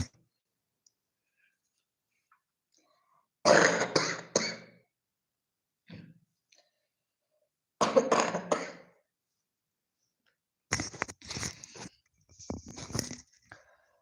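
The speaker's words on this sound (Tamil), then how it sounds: "ஒரு நிமிஷங்க எனக்கு இருமல் பயங்கரமாக" Several separate coughs and throat-clearing bursts break a quiet room, spaced a few seconds apart, the last ones coming in a quick rough cluster.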